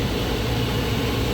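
Steady broadband whoosh of air blowing from the dashboard vents of a 2002-2005 Ford Explorer with the fan on setting 4, continuous and close, with no talk.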